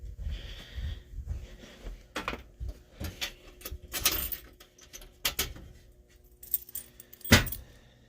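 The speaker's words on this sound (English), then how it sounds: "Let's go ahead and go get our panel keys." Panel keys jangle in irregular bursts close by, metallic clinks and rattles separated by quiet gaps and handling noise, with one sharp loud jingle near the end.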